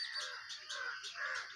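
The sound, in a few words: bulbul bird calling near its nest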